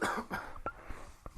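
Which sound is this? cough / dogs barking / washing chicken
cough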